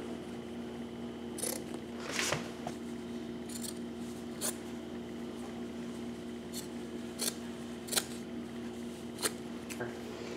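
Scissors snip through an old cotton t-shirt in a handful of sharp, separate cuts, close by, over a steady background hum.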